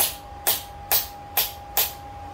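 Hammer taps on a hot forged metal ring for a candle holder, four sharp, evenly spaced strikes with a steady ringing tone sustained between them, heard alone.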